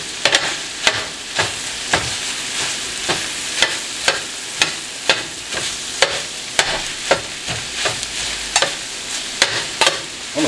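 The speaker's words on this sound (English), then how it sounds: "Chop the onions and the meat together." Onions and meat chopped together on a hot griddle for a giant chopped cheese sandwich, a steady sizzle under repeated sharp metal spatula strikes roughly every half second, close and clear with no talk.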